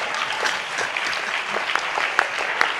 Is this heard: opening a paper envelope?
no